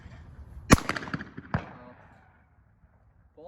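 Two sharp shotgun blasts from trap shooting at a Nebraska shotgun club ring out close and loud, each followed by a short decaying echo, with faint background voices.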